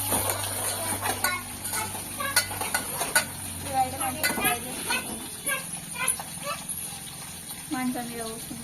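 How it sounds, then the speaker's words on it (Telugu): Ridge gourd and vegetable curry frying in a pan, with a spoon scraping and stirring in repeated clinks over a steady sizzle, close by, while people talk in the background. "ఇక ఒక్కటి కూరకాయలని కలిపి వండేస్తున్నాను అనమాట."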